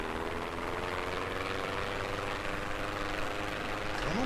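A player-built plane flies in the video game Trailmakers, a steady loud droning engine hum with a constant tonal whine and rising pitch sweep near the end, continuous throughout without talk.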